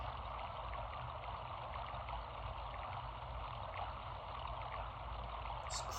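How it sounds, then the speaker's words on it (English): Steady running water heard at a distance in the EarthBound video game, a soft, even rushing wash that continues unbroken with no other sounds. "silence, except for the running water in the distance."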